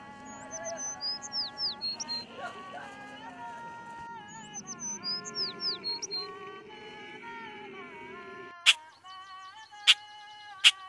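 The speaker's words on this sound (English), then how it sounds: "There's a wide variety of birds in the area." Birds chirp and whistle in a Dhofar valley in Oman, several repeated bright trilling calls over a steady low hum, ending with three sharp isolated chirps near the end.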